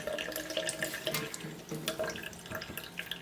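Running water from a kitchen tap splashes steadily over a doubled piece of cheesecloth being rinsed, a close, continuous watery patter with small sputters and drips.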